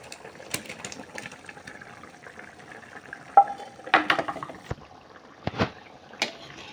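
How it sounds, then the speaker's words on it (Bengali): Tuna pieces cook in an onion curry gravy, giving a faint, quiet simmer and sizzle broken by a few sharp clinks and scrapes of a utensil against the pan. "টুনা মাছগুলো আমি দিয়ে দিয়েছি পেঁয়াজের ভিতরে।"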